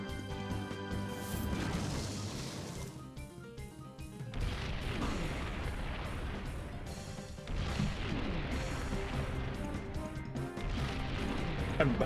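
Egg Bomb attack in the Pokemon XD: Gale of Darkness battle game, a dense run of crashing, booming impacts layered over steady game music, loud and continuous for the whole stretch.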